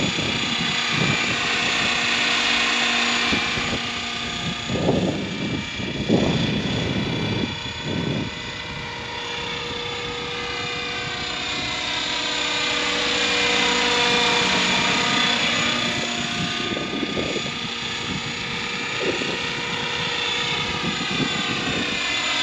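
Radio-controlled scale model helicopter in steady flight outdoors: a continuous high-pitched turbine-like whine with rotor buzz whose pitch slowly rises and falls as it passes, with occasional handling noises and no talking.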